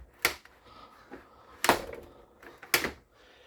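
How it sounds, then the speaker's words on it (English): Dometic RM1350 fridge doors with a gasket flap being handled, three sharp close knocks and thumps spaced about a second apart with quieter rattles between, close by and without talk. "when you close the left door, that flap goes into that bracket here and gets turned to make a place for the right door to seal against"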